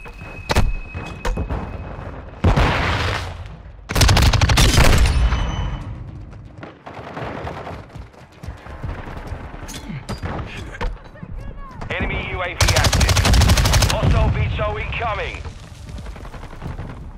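Video game gunfire in Call of Duty: Modern Warfare II team deathmatch, loud bursts of automatic fire and sharp shots in irregular clusters with impacts, mixed with in-game voices and player chatter.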